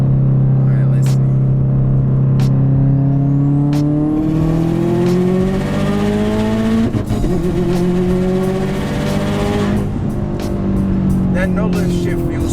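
A 2015 Subaru WRX STI accelerates hard through the gears, its engine note climbing in steady sweeps, with a no-lift shift where the revs dip briefly mid-pull before rising again; the engine is close and loud, with voices talking over it.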